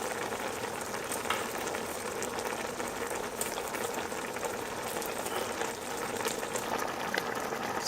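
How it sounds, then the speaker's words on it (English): Vegetable oil hisses and sizzles in a hot pot while black-eyed peas and greens are cooked, a steady, close bubbling crackle with no voices. "Then I'm gonna add vegetable oil."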